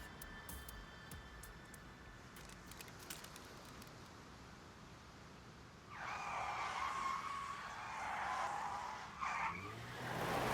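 A car skids in AI: The Somnium Files, a faint ambience breaking into a loud, sustained tire squeal that runs for several seconds, swells near the end, then trails off.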